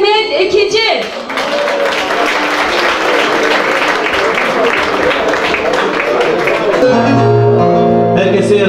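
A crowd at an album launch night bursts into loud, sustained applause as a folk singer is welcomed on stage, steady dense clapping after a brief announcement, with music swelling in near the end.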